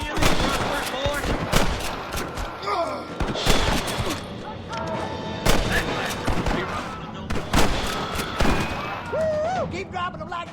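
Gunfire crackles through a shootout with rustlers in Red Dead Redemption, dense bursts of shots and rattling volleys running throughout alongside shouting voices and game sounds.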